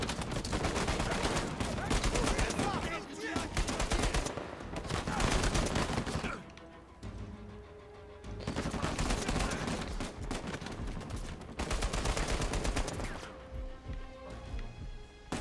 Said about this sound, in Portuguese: Meio que estamos tomando tiro